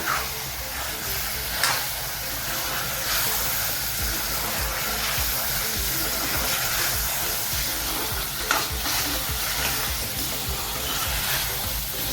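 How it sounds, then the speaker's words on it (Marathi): Prawns with Schezwan chutney stir-fried over a high flame: a loud, continuous sizzle and hiss up close, broken by repeated scraping and tossing strokes and a couple of sharper clanks, with no one speaking. "गॅसची फ्लेम आपल्याला हायच ठेवायची आहे आणि छान परतवून घेऊया"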